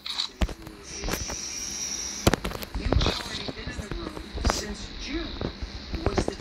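Semi-automatic gunfire in a battle royale shooter: sharp single shots crack out at irregular intervals, close and loud over game noise, with a voice speaking in between.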